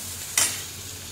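Homemade butter hits a hot kadhai with a single sharp hiss that quickly fades into a low, steady sizzle, close and alone without talk.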